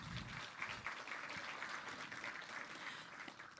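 A business breakfast audience applauds an introduced guest from Tulalip government, a brief, fairly faint patter of many hands clapping at a distance, even and unbroken, with no speech over it.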